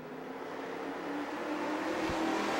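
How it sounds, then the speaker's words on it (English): Race cars roll off at the start of a Grand National Sportsman heat race at Music City Motorplex in Nashville, a dense engine roar that swells steadily louder over a couple of seconds. "They are underway in this first of two heat races for the Grand National Sportsman"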